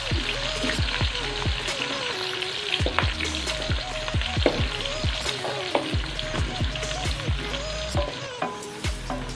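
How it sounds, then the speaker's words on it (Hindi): Onions sizzle and fry steadily in a pan for a desi chicken and white chickpea curry. The crackling is dense and continuous, with frequent stirring clatters close by and no talking. "अब हम इसमें प्याज डाल देंगे। प्याज को थोड़ा सा सॉफ्ट करेंगे।"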